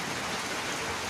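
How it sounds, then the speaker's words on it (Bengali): Heavy rain mixed with hail pounds down during a Kalbaishakhi nor'wester storm, a dense, steady, close roar of drops with no talking. "শিলা বৃষ্টি হচ্ছে।"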